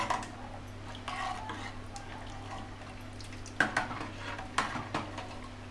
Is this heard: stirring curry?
yes